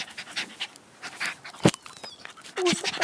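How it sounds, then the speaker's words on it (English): A lively dog pants in quick, breathy bursts and gives a short high whimper near the end, close by, with scattered rustling and a sharp thump in between. "This is my crazy dog."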